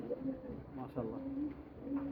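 Soft pigeon coos repeat in short low phrases inside a pigeon loft where breeding pairs are kept, fairly close but quiet, with faint background noise.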